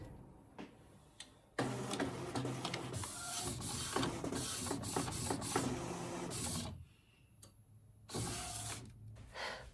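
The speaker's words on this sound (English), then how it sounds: "select nozzle check on the printer, and then I click print, and it's gonna print me a pattern" InkSonic R1390 DTF printer printing a nozzle check pattern, a busy mechanical whir of the moving print head with ticks and clacks, running steadily for several seconds and then pausing briefly before resuming.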